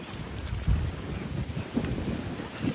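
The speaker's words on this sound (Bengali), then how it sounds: "আর এত পরিমাণ বাতাস হচ্ছে আর ঢেউগুলো দেখুন কি পরিমাণ ঢেউ হচ্ছে সাগরে" Strong wind buffets the microphone at Ostende beach in Belgium, with a low rush of sea waves underneath, steady and moderately loud with occasional gusty thumps.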